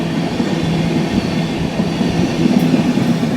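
The Rajdhani Express crosses the Shram Shakti Express in heavy fog, heard as a steady, loud rolling rumble of rail wagons with faint rhythmic wheel clatter throughout.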